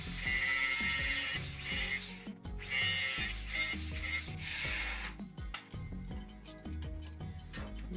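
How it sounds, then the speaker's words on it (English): A license plate bolt is cut to length with a hand tool, producing loud rasping strokes in bursts that fade into lighter scraping, with tonal music running underneath. "But I have the tools to cut it, so I'm just gonna cut it."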